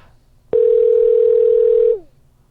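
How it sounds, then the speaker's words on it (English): A telephone ringing tone sounds once as a single long, steady electronic tone of about a second and a half. It is loud and clear, with no voices around it. "his phone's still ringing"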